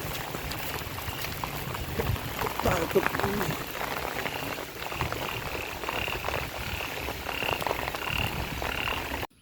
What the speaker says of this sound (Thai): จัดเต็มเลยเสียงกบ เสียงอึ่งร้อง